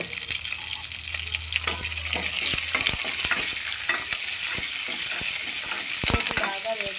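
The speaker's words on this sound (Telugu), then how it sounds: "ఆయిల్ మరిగిన తర్వాత ఆవాలు, ఎండుమిరపకాయలు, కరివేపాకు వేసి పోపు వేసుకోవాలి" Mustard seeds, dried red chillies and curry leaves hit hot oil for tempering, setting off a loud, continuous close-up sizzle with crackling pops and occasional spatula scrapes.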